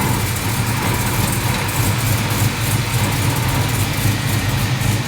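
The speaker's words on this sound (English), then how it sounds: "Has a little bit of an idle to it, doesn't it?" A Chevrolet K5 Blazer engine idles steadily, a loud, close, constant low rumble with no break throughout.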